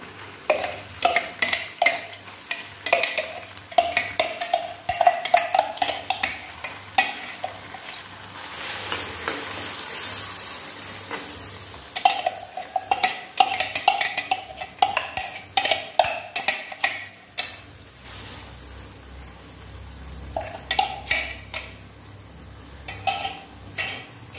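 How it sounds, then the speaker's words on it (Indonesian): Ground Balinese spice paste frying in a pan for a pork-bone and young jackfruit dish, with a steady sizzle broken by repeated scraping and stirring strokes and occasional utensil clinks against the pan, no talking. "bumbu yang sudah saya haluskan sekarang saya akan goreng"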